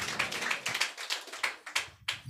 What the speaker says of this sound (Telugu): చప్పట్లు కొట్టి ప్రభునామాన్ని మనం ఘనపరచుదము గాక